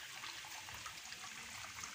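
An automatic washing machine drains water during its spin cycle, giving a steady, close rushing and trickling wash of noise that holds evenly for the whole stretch with no voices.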